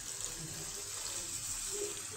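Water poured from a tap-like stream into a pan of frying samosa filling made with ginger paste, a steady continuous rushing splash heard alone and close.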